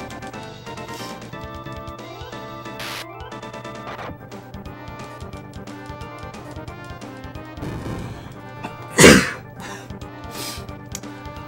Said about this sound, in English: I sneezed away from my mic.